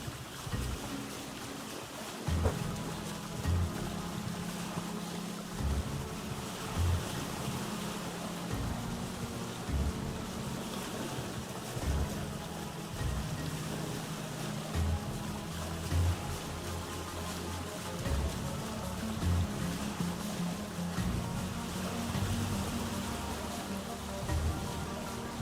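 A boat sails through wintry waves in the survival game Vintage Story, with a steady rushing wash of water and wind and low rhythmic thuds from the hull against the swell, unbroken throughout.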